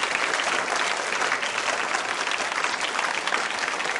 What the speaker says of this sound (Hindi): तालियां जोरों से बजाइए इस संकल्प